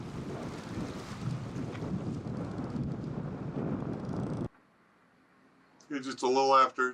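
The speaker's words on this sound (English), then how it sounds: "Wind is in the high 20s, low 30s." Strong wind gusting at sea aboard a cruising boat off Mexico, a loud, steady roar of buffeting wind for several seconds before it cuts out, then someone speaks briefly.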